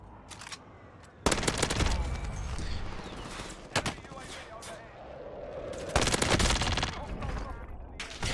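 Gunfire rattles out in Call of Duty Cold War Warzone in several bursts of rapid automatic shots, loud and close, separated by short pauses, with someone talking over parts of it.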